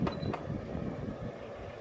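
Quiet, steady whir of a bladeless evaporative air cooler fan running at its lowest setting, with a couple of faint clicks at the start.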